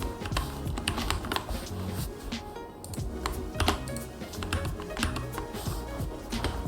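Rapid typing on a computer keyboard while writing code, a dense, steady stream of close clicking keystrokes with occasional heavier key taps.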